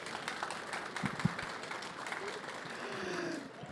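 Audience applause at a CES 2023 startup pitch competition finals, a steady wash of many hands clapping throughout, fairly close and even in level.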